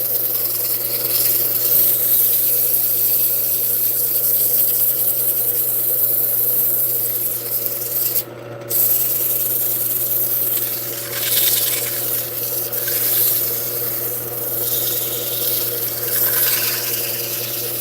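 Wood spinning on a lathe is sanded with sandpaper in a steady, loud rubbing hiss over a constant motor hum, with a brief dip partway through.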